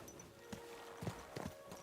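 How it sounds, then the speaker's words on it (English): Horse hooves clip-clop in a few scattered, soft strikes from a medieval video game world, heard faintly over a steady ambient background hum. "Bloody horses in the way."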